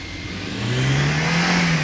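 A car accelerating on a tire test track, the engine note rising steadily and growing louder as it passes close by, with no talk over it.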